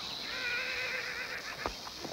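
A horse gives a loud, close whinny lasting over a second, trailing off into a few snorts and shuffling noises in a western setting.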